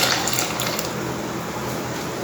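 Water pours steadily into a pan of ground masala paste for a coconut fish curry with white anchovies, a continuous close splashing rush with no pause.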